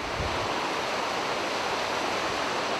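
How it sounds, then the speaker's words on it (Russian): A mountain river in the Kurtatin gorge roars in a dense, unbroken rush of white water, loud and even throughout with no other sounds. "гул реки,"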